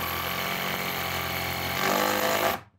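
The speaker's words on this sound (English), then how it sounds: "But yeah, it's a chainsaw." A chainsaw runs loudly and steadily during home renovation beam work, its buzzing rising slightly as if biting into wood, then cuts off abruptly.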